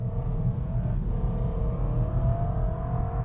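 A BMW E90 M3 V8 engine drones with a deep, rumbling growl, its pitch climbing steadily as it revs to 4,000 RPM under load, continuous and loud.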